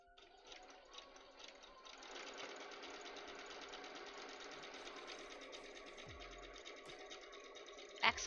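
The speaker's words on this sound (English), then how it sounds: "Sewing like the wind, Batman." A sewing machine stitches a Poison Ivy cosplay costume, a fast, steady rattling hum that runs on for several seconds, close and fairly quiet, ending with a couple of low thumps.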